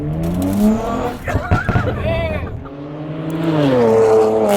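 A loud straight-piped BMW 335xi roars past, its harsh exhaust note sweeping up and down in pitch as it flies by.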